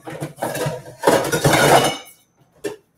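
Small ceramic bowls handled in a home kitchen, with clattering knocks and scrapes in close bursts, then a quiet pause and a single light clink.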